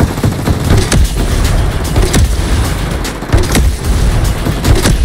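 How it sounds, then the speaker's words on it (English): Rapid video game grenade launcher explosions and gunfire in a fight against the Terminator, loud and continuous, with repeated booming blasts layered over dense shooting. "I'm gonna use my grenade launcher."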